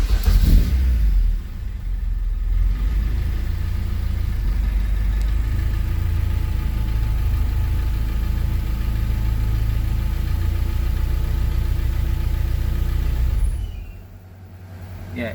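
Honda K24 engine swapped into a CRX running at a steady low idle, a loud continuous rumble that holds for most of the stretch before dropping off abruptly near the end as if stalling.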